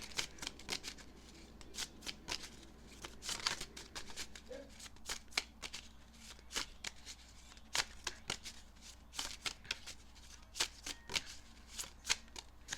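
Tarot cards are shuffled close by in repeated quick riffles and soft slaps, an uneven rhythm of short bursts that continues throughout at fairly low volume, with no talking.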